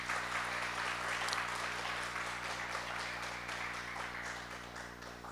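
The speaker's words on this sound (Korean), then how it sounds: "한번 박수로 격려할까요?" A church congregation applauds, a faint, fairly brief wash of clapping over a steady low hum, which fades slightly toward the end.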